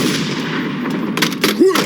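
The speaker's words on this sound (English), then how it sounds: "Sniper attack." Sniper gunfire rings out in a cartoon, a couple of sharp cracks near the end over a background of noisy scene ambience, with a brief whistling ricochet following one shot.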